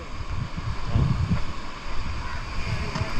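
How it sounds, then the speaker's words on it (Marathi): Sea waves washing onto the beach at Gokarna at sunset, a continuous low rumbling surge of surf mixed with gusty wind buffeting the microphone, no clear talk. "बघू शकता हा समुद्र किती छान पद्धतीने त्याच्या लाटा,"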